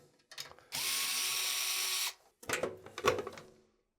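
Regular screws are being removed to take apart a DeepCool CH160 mini PC case. A steady powered whir of over a second is followed by quick clicking, ratcheting turns, all close and fairly quiet.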